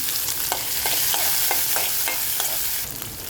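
Finely chopped green chillies fry in a ladle of hot oil in a pan for a tempering, a continuous bright sizzle broken by regular scraping stirs, with no voices.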